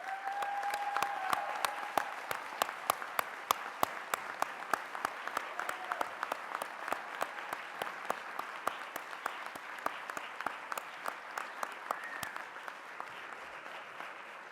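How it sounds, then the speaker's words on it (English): Sustained audience applause at a university undergraduate convocation as family and friends stand, many hands clapping steadily at moderate distance with sharp individual claps standing out, no talking over it. "let's give them all a round of applause"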